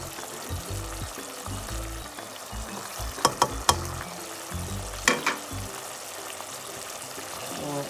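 Dry spices and softened, peeled tomatoes fry in a pan for a pea and fish curry, a low steady sizzle with a few sharp clinks of a spoon against the pan and scattered stirring scrapes.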